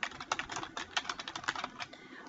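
Quick, irregular clicking of keys on a computer keyboard while entering a field name into a database table, close and fairly faint with no voices.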